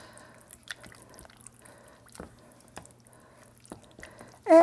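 Dry sherry stirred into a cooking sauce in a pan makes soft wet squishing and dripping sounds with faint utensil taps, quiet and close, ending in a sudden loud burst.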